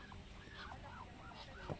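Several ducks on a farm in Cavite call out in nasal, honking squawks, faint and somewhat distant, in a rapid overlapping series.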